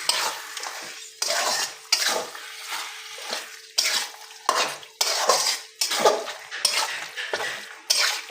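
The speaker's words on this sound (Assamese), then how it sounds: "মাংসখিনি অলপ সময় ভাজি থাকিম" Goat meat frying with spices in a pan, stirred in repeated bursts of scraping and sizzling about every second, close and fairly loud, with no talk.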